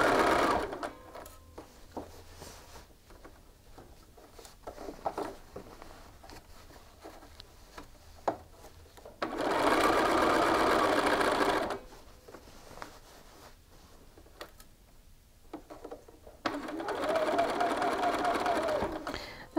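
A sewing machine stitches a shirt collar in short bursts of two to three seconds, separated by quieter handling sounds and a voice talking.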